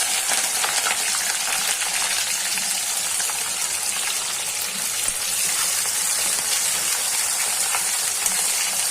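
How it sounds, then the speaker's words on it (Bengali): Onion frying in hot oil with cardamom, cinnamon and bay leaf, a loud continuous hissing sizzle that stays steady and close throughout, with faint crackles and no voices. "গরম তেলে দিয়ে দিচ্ছি পেঁয়াজ"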